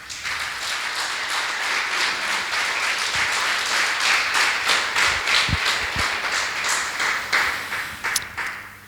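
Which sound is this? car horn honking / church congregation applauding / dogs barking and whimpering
church congregation applauding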